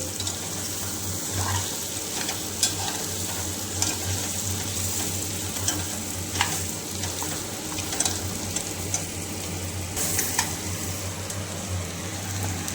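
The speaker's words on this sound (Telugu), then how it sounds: "మసాలా బాగా ఎర్రగా వేగింది." Spice masala frying in a pan over low heat for a goat head curry, giving a continuous, dense close sizzle with light crackles and occasional stirring clinks, unbroken by talk.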